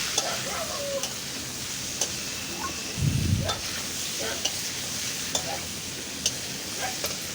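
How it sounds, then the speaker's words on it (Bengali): Mango pieces fry in oil with salt and turmeric for pickle, a steady sizzle with scraping stirs and light ticks, including one louder rumbling stir midway. "নুন হলুদ দিয়ে তেলের উপরে আমটাকে সুন্দর করে কষিয়ে নেবো"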